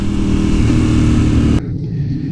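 Ducati 848 sport bike engine revving loudly and steadily up close as the rider pulls away, then the tone drops abruptly as the throttle closes, with no talking.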